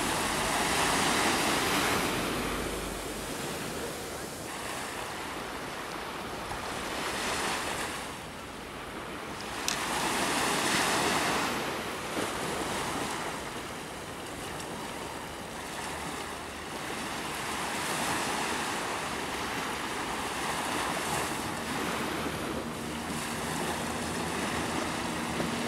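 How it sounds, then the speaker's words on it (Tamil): Sea waves break repeatedly on Silver Beach in the early morning, rolling surges of surf rising and falling every few seconds, with wind buffeting the microphone; no voices. "இந்த கடல் அல சவுண்ட் இருக்குது பாருங்கள், அவ்வளோ அழகாக இருக்கும்"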